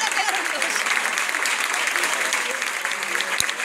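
Steady applause fills a dance party hall at a social dance exhibition finale, a dense wash of clapping that runs unbroken throughout, with a voice talking over it.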